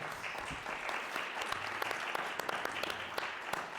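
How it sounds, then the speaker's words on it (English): Audience applause for school board candidates at a city school district board of education meet-the-candidates event, steady clapping from a crowd filling the room, sustained and fairly even throughout. "you may show your appreciation through applause for all of our candidates"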